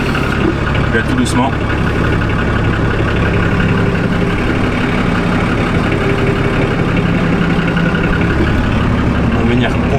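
A Nissan Patrol diesel engine idles steadily, a continuous low rumble as the vehicle reverses out of a garage, with someone speaking over it.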